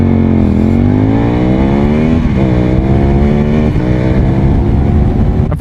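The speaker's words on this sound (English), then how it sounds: "And the sound this bike makes." An Aprilia Tuono 1000R motorcycle with Akrapovic exhausts revs loudly up close, its deep engine note climbing and dropping in a few surges before settling into a steady rumble.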